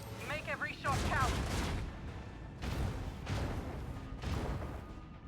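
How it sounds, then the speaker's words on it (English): A salvo of macro cannon fire in the Warhammer 40k Rogue Trader video game, with several heavy booming bursts one after another and game dialogue spoken over them. "Macro cannon. Open fire."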